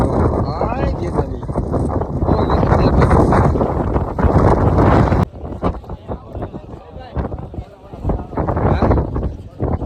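Strong wind buffets the microphone on Girnar mountain, a loud continuous roar with gusty swells and a sudden drop midway, while people talk through it.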